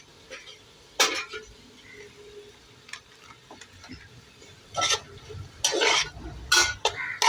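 Onion masala for a Malabar biriyani roasts in a pan, with a faint sizzle under scraping stirring strokes that get busier and louder toward the end.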